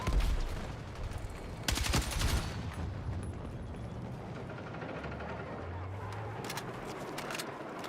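Bursts of RPK light machine gun fire in Battlefield 6, loud volleys near the start and around the two-second mark, then quieter scattered shots over a low rumbling battlefield backdrop.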